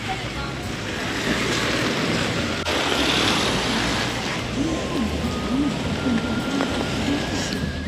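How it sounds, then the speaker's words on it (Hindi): Steady, dense wash of heavy rain with wind rushing over the microphone, loud and continuous throughout. "बहुत तेज बारिश हो रही है."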